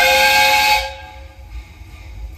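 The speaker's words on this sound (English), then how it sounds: "The whistle's blowing." A loud, shrill steam whistle blasts with a hissy edge for under a second, then cuts off, leaving a low rumbling background.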